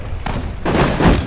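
A cannon fires in the Sudden Strike 4 war game, heard as a short series of loud, close thudding booms running into one another.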